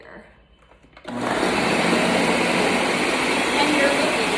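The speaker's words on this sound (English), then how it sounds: "I'm gonna turn it on and let it blend and then check the consistency" A blender whirs up a Dole Whip mixture with coconut rum, kicking on abruptly after a brief quiet moment and then roaring at a loud, constant pitch close by.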